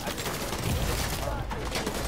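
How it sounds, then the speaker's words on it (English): Many players fire at once in the video game The Division 2, a dense, crackling burst of overlapping gunshots with low booms underneath. The shooting is steady and moderately loud for about two seconds, and someone may speak faintly in the mix. "It was too many people shooting at me."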